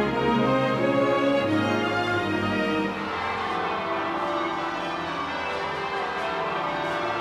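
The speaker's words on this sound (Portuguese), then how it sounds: "Ao som dos sinos da abadia" Church bells of Westminster Abbey in London peal after a royal wedding, a dense, continuous wash of overlapping ringing tones that stays loud throughout, with no speech.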